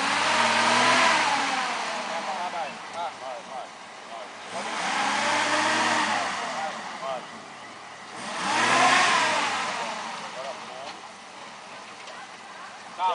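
An off-road car's engine revs in three long surging swells while reversing on a rough trail, each rise climbing and falling back, with people talking nearby between the revs.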